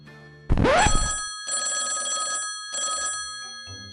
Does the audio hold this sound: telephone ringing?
yes